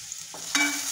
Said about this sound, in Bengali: পেঁয়াজ দিয়ে ভালো করে ভাজা করে পেঁয়াজটাকে ভেজে নিব